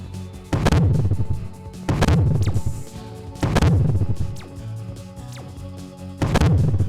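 Plasma gun in the Neuro Hunter video game firing five heavy, booming explosion-like blasts at roughly even intervals, each with a loud burst and rolling decay.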